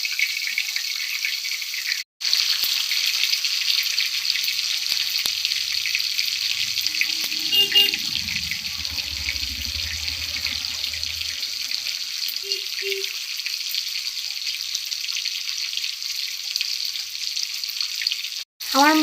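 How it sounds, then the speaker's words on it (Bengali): Hilsa fish pieces frying in a pan, a loud, continuous hiss of sizzling oil close by for the whole stretch, with brief low thuds of handling partway through and two short dropouts. "এবার আমি মাছগুলিকে ভেজে নেব।"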